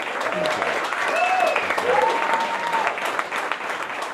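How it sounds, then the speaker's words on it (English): A crowd at an outdoor political campaign event applauds steadily, a dense even wash of clapping that holds throughout, with voices and a few whoops mixed in. "Let's give a round of applause for that."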